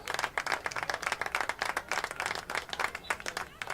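Scattered hand clapping from spectators at a women's soccer game, greeting a player coming off as a substitute, a steady run of moderately distant claps lasting several seconds with no voices over it.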